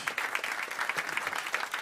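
Audience applause at a live stage event in Belgium, as a guest artist is invited on stage: steady, dense clapping from a modest crowd, fairly close, with no voices over it.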